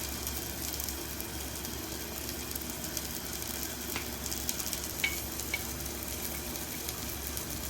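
Spices and turmeric frying in a pan for mutton paaya, a steady soft sizzle close by with a few faint clinks and stirring scrapes, continuous and fairly quiet.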